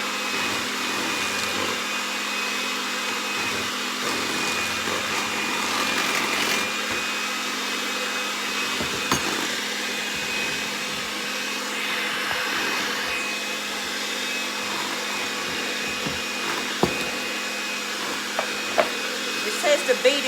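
An electric hand mixer on low speed beats the lime jello poke cake mixture, a steady continuous motor whir that runs loud and close throughout, with brief clinks near the end.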